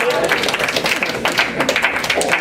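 A live audience at a stage hypnosis show claps and cheers to encourage a hypnotized volunteer, giving steady, dense applause with whoops that runs without a break the whole time.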